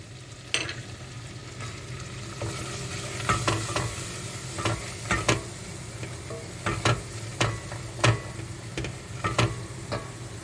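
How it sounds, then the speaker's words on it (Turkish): Flour is roasted in a pan with lentils and pepper and tomato paste, giving a steady low sizzle broken by about a dozen sharp scraping stirs of a utensil against the pan at an uneven rhythm. "Bir kaşık da unum vardı. Unu da kavuracağım."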